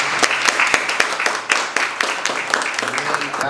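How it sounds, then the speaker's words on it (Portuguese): A church congregation applauds during a worship service: a dense patter of many hands clapping steadily and fairly close throughout. "Uma salva de palmas, pastor."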